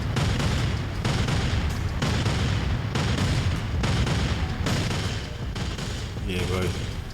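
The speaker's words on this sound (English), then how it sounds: "you can most definitely tell those the expensive ones, the expensive fireworks" Expensive fireworks go off in GTA San Andreas as a continuous, loud volley of overlapping booms and crackles, close and steady for the whole stretch, with a brief tonal whistle near the end.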